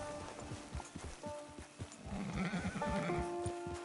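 Hooves clip-clop in a quick, uneven rhythm as a horse moves in the video game Red Dead Online. The sound is quiet, with soft tonal game sounds around it.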